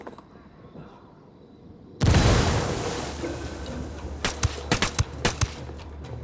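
Frag grenade blast in a shooter game: a sudden loud, close boom with a long rumbling tail, followed by a string of sharp gunshots.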